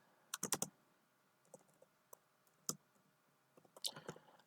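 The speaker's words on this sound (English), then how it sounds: "I'm just typing for now." Someone types code on a computer keyboard in quiet surroundings. Keys clack in uneven bursts, a quick cluster of taps, scattered single presses, then another flurry, all faint and close.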